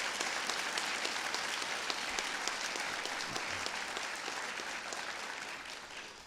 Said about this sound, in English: Let's give Joe Morelli a round of applause.